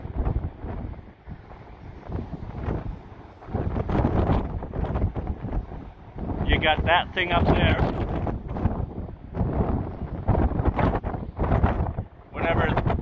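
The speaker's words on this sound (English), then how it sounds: "It is really windy up here." Strong wind buffets the microphone on the open top deck of the Ruby Princess cruise ship, gusting in and out while someone speaks briefly.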